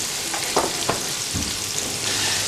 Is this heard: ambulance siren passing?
no